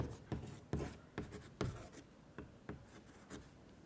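Chalk or marker strokes on a classroom board during a physics lesson on concave mirrors, a quick series of close scratchy taps and scrapes in irregular rhythm, with no talk over them.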